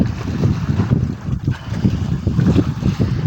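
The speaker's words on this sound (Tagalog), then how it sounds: "nagsimi-simi na ang hangin dahil sa Sibasco" Wind buffets the microphone aboard a fishing boat at sea, a loud, gusty roar that swells and dips in uneven pulses with low rumbling beneath, no voices over it.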